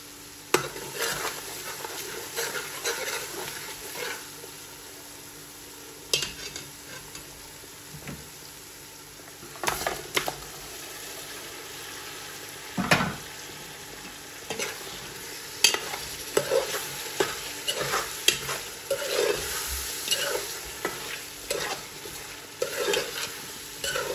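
Lamb meat frying in a pot for a palau, sizzling steadily while a utensil stirs and scrapes it in repeated bursts, close and fairly loud, with no talk.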